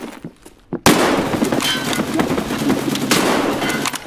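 A grenade goes off in the video game Escape From Tarkov. One loud, sudden blast erupts after quiet rustling and trails into a long, rumbling crackle of debris and echo.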